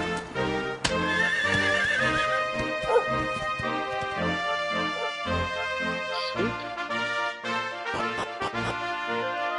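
A horse whinnies in the video game Dragon Quest XI, sounding out over in-game music and effects, with clip-clop hoofbeats and other game sounds mixed in.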